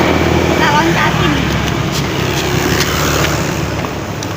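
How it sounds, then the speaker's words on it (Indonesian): A car passing along a road beside a park during a morning run, a loud, broad roar that stays close and steady and fades slightly at the end, with people talking over it. "Oh, ada mobil."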